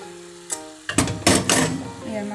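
Pork sizzles in a frying pan with green peas and potato nearby, stirred with a utensil that gives a few sharp scrapes and clanks over a steady frying hiss; a voice speaks briefly at the start.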